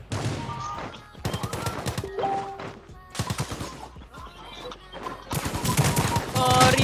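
Rapid bursts of M4A1 rifle fire in the shooter Rules of Survival, several loud automatic strings separated by brief pauses, with other game effects between them.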